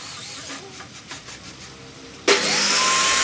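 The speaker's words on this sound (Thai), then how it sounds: "เราก็ใช้เครื่องดูดฝุ่นพร้อมกันเลยนะครับ" A vacuum cleaner sucks up dust while vinyl flooring is laid, switching on abruptly after a few quiet seconds of faint knocks and then roaring loud and steady with a strong hiss.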